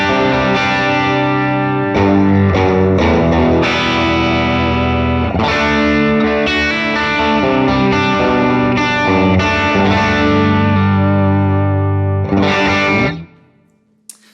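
Distorted electric guitar through an FM3 cabinet simulation blending 57 and 121 microphones, a loud, dense riffing passage with sustained chords and short breaks, ending abruptly before a brief quiet tail.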